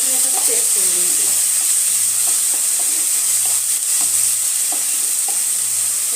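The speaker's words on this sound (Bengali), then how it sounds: "2 মিনিটের জন্য ভেজে নেব, যাতে আদা রসুনের কাঁচা গন্ধটা বেরিয়ে যায়।" Onion with ginger-garlic paste frying in a pan for an egg and potato curry: a steady bright sizzle runs throughout, with intermittent stirring scrapes and soft clinks, no speech.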